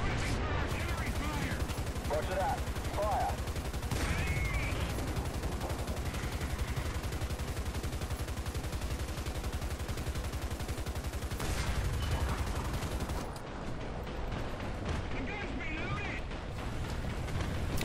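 In the tank battle video game War Thunder, gunfire and artillery blasts rattle in dense, continuous bursts, with heavy booming shots surging at intervals over the steady din of combat.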